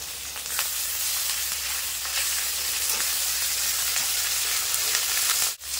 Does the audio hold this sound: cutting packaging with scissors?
no